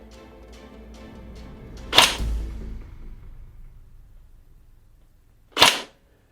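Two sharp airsoft shots from an S&T/ARES PPSh-41 fired down a range, the first a loud crack followed by a brief low thump, the second alone a few seconds later, with faint ticking between.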